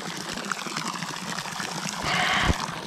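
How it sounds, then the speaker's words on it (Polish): A pump aerates water in a garden fish pond, a constant bubbling trickle and splash that swells louder toward the end, close, with no talking. "taki sposób napowietrzam wodę w swoim stawie"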